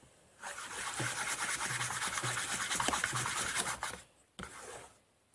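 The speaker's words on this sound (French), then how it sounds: "Du coup, je vais mélanger." Slime mixed with shaving foam makes a soft, continuous squishing and rubbing sound for a few seconds, close and quiet, followed by a short pause and one more brief burst of mixing.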